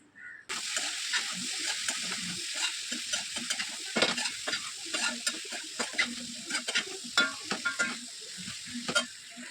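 Beef fry sizzles loudly and continuously in a pan, broken by frequent scraping and clattering strokes as it is stirred, close and without speech.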